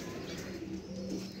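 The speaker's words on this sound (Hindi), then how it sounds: "ये रहे हमारे कबूतर ऊपर वाले" Soft, low pigeon coos repeat steadily over a dense background of rustling and chatter from finches and other birds, fairly close.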